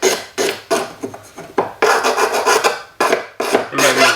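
Coarse-to-medium sandpaper rasps across a melted sterling silver cuff bracelet in brisk, rhythmic back-and-forth strokes, close and loud, about a dozen scrapes with brief gaps between them.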